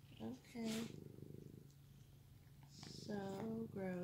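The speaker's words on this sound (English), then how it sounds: "And he's purring away." A cat purrs softly and continuously close by, a low rhythmic rumble running under a voice speaking at the start and end.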